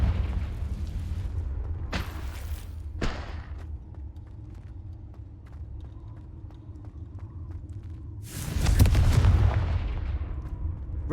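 Fire-blast spell explosions in the video game Hogwarts Legacy: a few sharp blasts early, then a bigger booming burst with rumbling low end near the end, over a steady game background.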